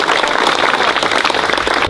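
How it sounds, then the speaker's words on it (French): Loud, dense audience applause at a commemorative ceremony honouring Indian indentured labourers, a steady wash of many hands clapping without pause, cutting off abruptly at the end. "ça on peut applaudir"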